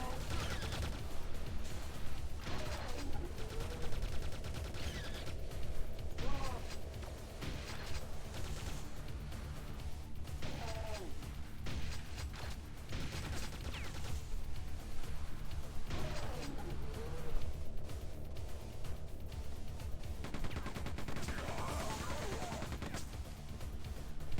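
Rapid machine gun fire rattles in Quake II, steady automatic bursts running throughout at a moderate, even level within busy game noise.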